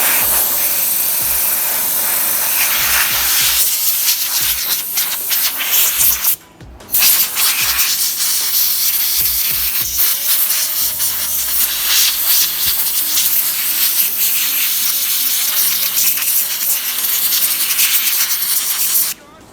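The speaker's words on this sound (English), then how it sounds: "I've got my air compressor tool right here" Compressed air from an air compressor blowing tool blasting dust out of an Xbox One console fan in a garage, a loud continuous rushing hiss with a brief break partway, close to the microphone.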